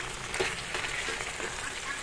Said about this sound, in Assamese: 3-4 মিনিটমান সময় এনেকৈ ভাজি দিম মই